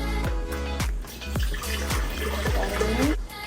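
Water pours steadily into a container for cold protein coffee, a close, continuous splashing and trickling stream with a rising pitch as it fills, under a rhythmic background beat.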